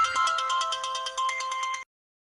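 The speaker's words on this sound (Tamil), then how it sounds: "உன்னோட பேக்ல இருந்தாண்டி செல்போன் ரிங் அடிக்குது" A mobile phone ringtone rings from inside a bag, a bright repeating electronic melody that is fairly loud and steady for almost two seconds, then cuts off abruptly into silence, with no voices.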